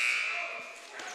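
End-of-half buzzer at a men's college basketball semifinal: a bright, sustained electronic tone that starts loud and tapers over about a second, with crowd noise and faint voices around it.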